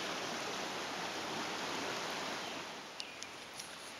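A creek rushing steadily at high water between rainstorms, its broad hiss of flowing water close and continuous, with a few faint clicks near the end.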